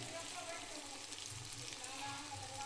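Egg frying in a pan, a steady broadband sizzle running throughout at low level, with faint talk in the background.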